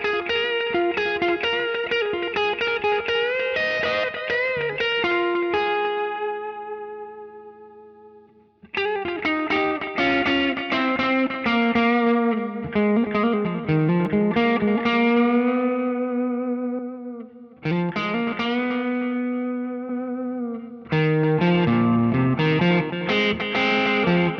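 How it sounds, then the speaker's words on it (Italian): Electric guitar run through the tape drive distortion on a Fractal Audio Axe FX III, drive set to maximum yet adding only slight grit; sustained chords and riffs ring out loud and continuous with short gaps between phrases, colored by effects and no talking. "che è quello che simula un po' la distorsione di un nastro"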